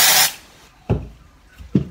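A can of dry shampoo aerosol sprayed onto hair in a long hissing burst at the start, followed by two short, softer puffs, close and with no talk.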